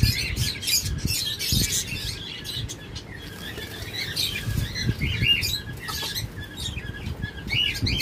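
A flock of caged lovebirds and cockatiels at a bird shop twitters steadily, with bright overlapping chirps and a few soft patters and flutters. No voices are present.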